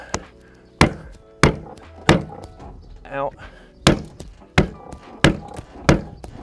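A camper van window frame is banged into place at a rusty corner, giving about ten sharp, hollow knocks at uneven intervals. A voice speaks briefly between the blows.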